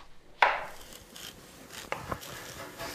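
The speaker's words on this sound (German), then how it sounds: "Parallel schnippelt Ulrikes Küchenhilfe die Zucchini für den Hauptgang." A kitchen helper chops zucchini with a knife for a main course, a few sharp board knocks and cuts, one crisp opening strike then scattered lighter chops, close and fairly quiet.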